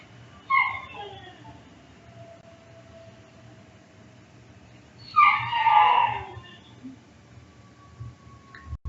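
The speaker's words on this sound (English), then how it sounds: "we just got a dog and we are crate training, so I apologize for the whimpering" A newly adopted puppy whimpers from its crate in the background, two thin, wavering cries several seconds apart over a low steady hum.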